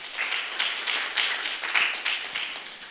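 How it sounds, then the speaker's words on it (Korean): An audience claps in thanks for the guests at a Korean relay talk event on single-person households, work, health and safety. The applause is a dense, steady patter of many hands, swelling in waves for about three seconds. "모든 내빈 여러분께 다시 한번 감사의 박수"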